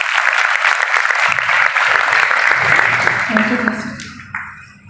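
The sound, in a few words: applause welcoming a guest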